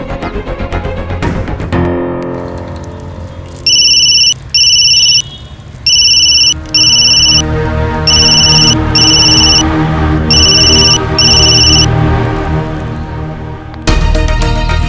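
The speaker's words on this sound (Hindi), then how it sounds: "सीनियर मिस बोस तो मेरा फोन जरूर उठाएंगे।" An unanswered phone rings in a Hindi TV drama, its electronic ringtone repeating in loud paired bursts over a sustained musical background.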